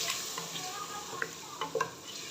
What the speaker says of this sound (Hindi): अभी इस पेस्ट के साथ मटन की भुनाई करेंगे थोड़ी सी